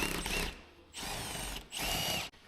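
A power tool loosens a gearbox bolt on a car in a workshop, three close, loud bursts of whirring rattle separated by short pauses.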